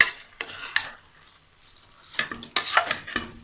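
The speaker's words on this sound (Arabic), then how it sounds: "ابتدي اقلب كله" A spatula stirs rice and chicken liver in a pot, giving soft scraping and dull knocks in irregular strokes, close and fairly quiet, with a faint sizzle underneath.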